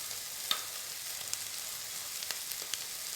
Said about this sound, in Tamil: இந்த மாதிரி ஓரளவுக்கு முட்டை நல்லா ஃப்ரை ஆனதும்